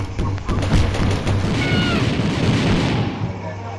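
Bomb explosions in a video game tournament match, a busy run of heavy booms and bursts rolling on for several seconds beneath voices.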